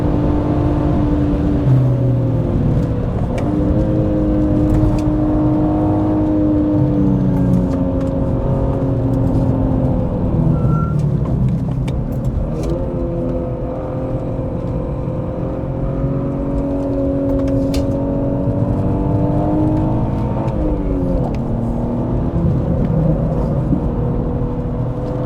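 A BMW E46 M3 engine revving hard on a race track, a loud, close, sustained howl rising and falling through the gears with tire and wind rumble beneath.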